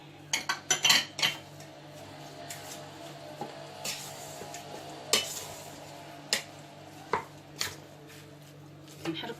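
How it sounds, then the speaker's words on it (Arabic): A spoon clinks and scrapes against a bowl while spices and oil are stirred together for a traditional chicken pastilla, with uneven bursts of clatter and tapping in a quiet kitchen, and no one speaking. "كنحركو مزيان حتى تنسجم كل العناصر"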